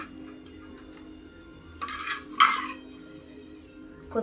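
Tomatoes and green chillies are pounded in a stone mortar for chutney, giving a few sharp, close knocks and scraping clinks against a quiet kitchen background, with no talk.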